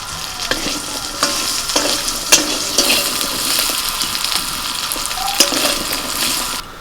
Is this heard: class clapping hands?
no